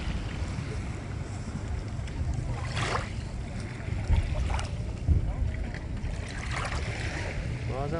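A sailboat at anchor rocking in the wake of passing large motor yachts, with continuous sloshing water and hull slaps, a few sharper knocks as waves hit, and people talking nearby.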